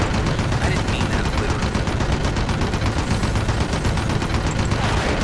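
Sustained rapid gunfire in the video game Red Faction 2, a dense, loud, continuous automatic rattle filling the whole stretch with no pauses.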